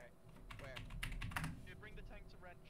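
Rapid clicking keystrokes on a German computer keyboard, a quiet burst of typing throughout, with voices talking faintly in the background.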